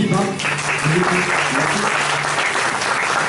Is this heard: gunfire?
no